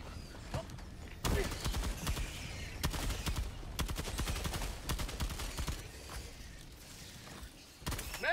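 Automated sentry gun in a video game firing loud, rapid bursts of gunfire in irregular volleys with short gaps, the shots crackling sharply throughout, with a faint voice now and then underneath.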